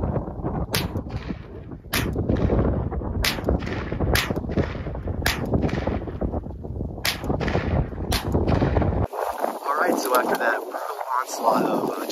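Gunshots ring out at a Captain America shield outdoors, sharp loud cracks spaced about a second apart, seven or eight in all. Wind buffets the mic and a person talks between them.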